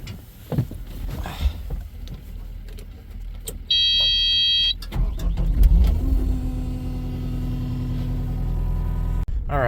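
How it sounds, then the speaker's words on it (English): A skid steer starts up and runs close by while moving gravel, with a rising engine drone, a steady electronic beep, mechanical clanks and a loud knock near the end. "let's hop in the skid steer here and"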